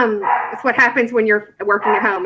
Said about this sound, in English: I apologize for my dog barking.